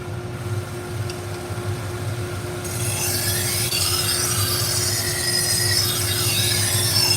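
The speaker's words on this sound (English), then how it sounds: "I think it's 240 grit diamond wheel from Continental Diamond Tools." Steady grinding hiss of a blade on a 240 grit diamond wheel from Continental Diamond Tools, a constant motor drone that turns brighter and scratchier partway through as steel contacts the wheel, with no talking.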